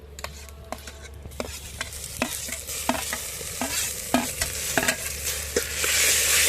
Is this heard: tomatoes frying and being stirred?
yes